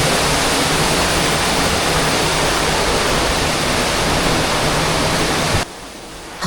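A mountain waterfall roaring as a dense, steady rush of falling water, loud and close, continuous until it cuts off abruptly near the end.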